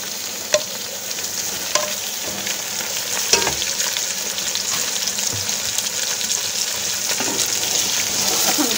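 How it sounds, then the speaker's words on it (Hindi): Beef and onions frying in a pot, a steady close sizzle with occasional stirring clicks and scrapes, building slightly louder toward the end, with no talking. "अब हम इतना भूनेंगे इसे कि गोश्त का जो है कलर जो है चेंज हो जाए"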